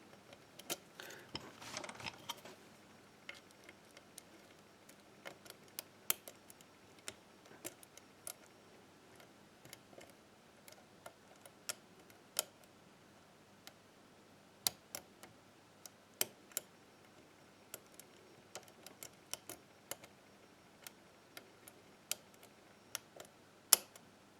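Small metallic ticks and clicks from lock picks working a BKS door lock, scattered irregularly, close and fairly quiet, with a denser burst of scraping near the start and isolated sharp clicks throughout.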